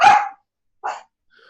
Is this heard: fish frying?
no